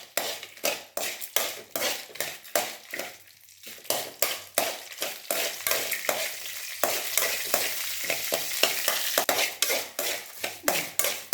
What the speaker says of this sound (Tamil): இதை வதக்கி இது தனியாக எடுத்து வச்சுக்கணும்